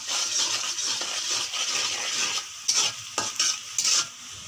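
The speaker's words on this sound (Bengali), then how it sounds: "তেজপাতা দিয়ে আর একটু মিনিট খানেক ভেজে নিচ্ছে" Spices and a bay leaf frying in a pan with onion, sizzling steadily up close while a utensil stirs and scrapes in short bursts toward the end.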